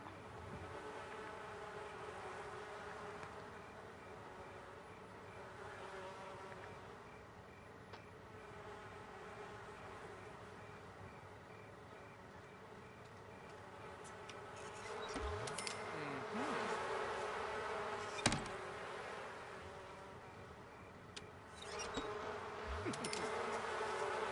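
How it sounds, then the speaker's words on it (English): Bees buzz around hives in the Cottage Living video game, a continuous faint insect drone, with louder passes flying close by in the second half. "he should have come and checked his bees before he does anything"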